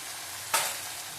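Cumin powder and ground ginger paste hit hot oil in a pan during stir-frying for a catla fish curry, giving a short burst of sizzle that rises abruptly, then settles into a steady frying hiss.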